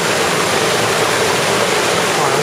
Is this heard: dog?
no